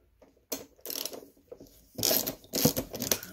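Socket wrench cracking loose the seat bolts on a Honda CRF250L Rally motorcycle, giving several short, close bursts of ratchet clicking and metallic scraping in an uneven rhythm, with no talking.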